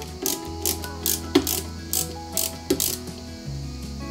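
Flat-head screws being driven into a Lancia 037 model car kit with a screwdriver, giving a series of small ratcheting clicks in a steady rhythm, close and fairly quiet, with no talk.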